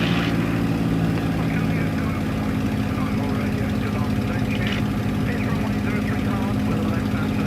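A small airplane's engine throttled back to reduced power gives a loud, steady droning hum with even, unbroken harmonics that fill the cabin from start to finish.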